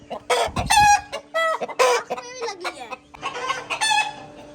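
Rooster letting out a rapid series of loud, close clucks and squawking calls with short gaps between bursts, sometimes rising toward a crow.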